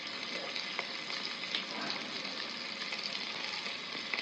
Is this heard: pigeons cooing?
no